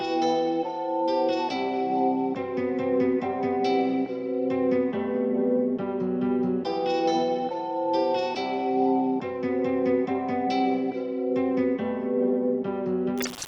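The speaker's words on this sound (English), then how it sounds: "I'm using the Rev Intensity reverb, and this time I've chose the Duct Verb preset." A looping melodic keyboard phrase plays alone, its plucked notes drenched in a spacious Duct Verb reverb preset that smears each one into a lingering wash, in a dark trap-style melody.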